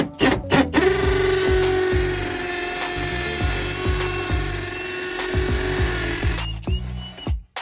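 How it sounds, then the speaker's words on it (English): A power drill whines steadily at high speed for several seconds while drilling a wire hole through a wall top plate for a Ring doorbell, close and loud, with a brief start and stop at either end. "Now I'm gonna drill my hole."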